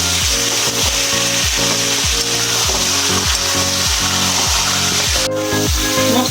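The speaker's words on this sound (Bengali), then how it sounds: "এবার সেদ্ধ করা মাংসটা আমি এর মধ্যে দিয়ে দিচ্ছি এবার একসঙ্গে ভালোভাবে কষিয়ে নেবো" Boiled mutton fries with spice paste in a pan, giving a loud, steady sizzle under a regular run of scraping strokes from a spatula pushing the meat around, close up and without any voice.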